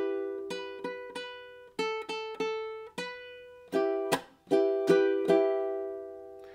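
A ukulele plays the strumming pattern of Hotel California, alternating crisp down and up strums with sharp muted chunk strokes in a steady rhythm, played close and alone.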